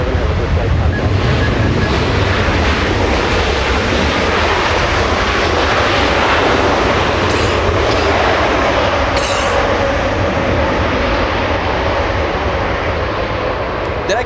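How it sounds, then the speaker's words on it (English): Boeing 787 Dreamliner airliner at Los Angeles International Airport, a loud continuous engine roar and rushing jet noise close by, holding steady for the whole stretch. "Dreamliner, this one flying in from Amsterdam."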